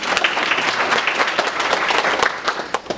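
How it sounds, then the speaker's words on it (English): Audience at an early college high school event giving a round of applause, dense steady clapping from a crowd filling the room, tapering slightly at the end. "Give her a round of applause."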